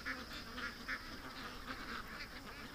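Ducks quack faintly and repeatedly in the distance around a grassy property, with short nasal calls overlapping over a low steady background hiss.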